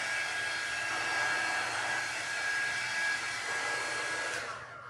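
A hair dryer blows steadily and loudly, drying paint on an upcycled item, a constant whirring hiss that holds for several seconds before easing off at the very end, with no talking.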